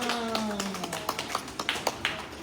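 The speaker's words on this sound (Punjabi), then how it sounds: "ਤਾੜੀਆਂ।" A few people at a charity society gathering in Ludhiana clap by hand, loosely and irregularly. A voice is heard at the start, then sharp individual claps follow in an uneven patter at moderate volume.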